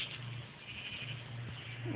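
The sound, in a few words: sheep bleating in Minecraft video game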